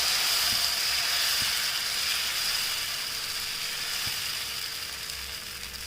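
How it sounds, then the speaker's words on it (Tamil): Black kavuni rice dosa batter sizzles on a hot oiled pan, a steady bright hiss and crackle that slowly fades, with a few faint knocks and no talking. "இப்போ கவுனி அரிசி தோசை மாவு ஒரு கரண்டி எடுத்து அப்படியே நல்லா பரப்பி விட்டுறலாம்."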